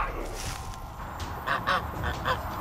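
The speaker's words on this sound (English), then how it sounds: "Newly hatched chicks behind a pair of Egyptian geese." A few short, nasal honking calls from Egyptian geese, two or three close together near the end, over a steady outdoor background.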